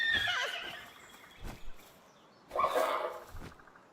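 In the video game Palworld, a horse creature lets out two loud whinnies with a quieter snort-like sound between them.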